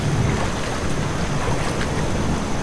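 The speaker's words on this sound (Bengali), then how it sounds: "কি কনকনে ভিজে বাতাস!" Cold, damp wind sweeps through a rainy night street lit by gas lamps in a Bengali horror audio story, a steady, dense rushing noise that never lets up, with no voices.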